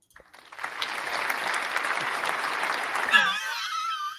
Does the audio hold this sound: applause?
yes